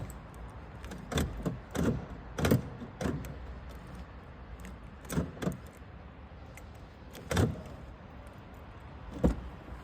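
A key works the door lock of a Volkswagen Golf 4 1.6 whose remote is broken, making faint, scattered clicks and clunks over a low background hiss, with no voices.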